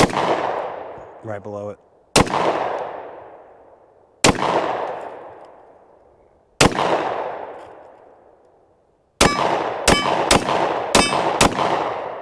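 Hi-Point JXP10 10mm pistol fired at a shooting range: sharp, loud single shots with long ringing decays and metallic target hits, spaced out at first, then a quick string of five rounds. Brief talk comes before the shots.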